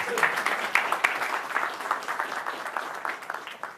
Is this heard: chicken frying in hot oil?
no